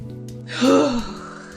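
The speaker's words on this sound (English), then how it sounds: "let's take a deep breath" A single deep breath drawn in during a guided EFT tapping meditation: a short, breathy inhale swelling near the middle, close and fairly soft, in an otherwise quiet moment.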